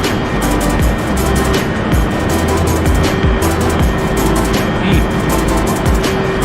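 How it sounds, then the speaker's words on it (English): The ERJ-175 jet engine in X-Plane 11 gives a loud, steady close-up roar with a constant tonal hum and a faint rhythmic pulsing underneath. "We got that engine right up in our ear right there."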